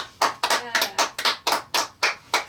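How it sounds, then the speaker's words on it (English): Close, loud hand claps from just a couple of people in a small radio studio: about ten sharp, evenly spaced claps in a steady rhythm, with no talking over them. "Give it a clap even though it's just me and you."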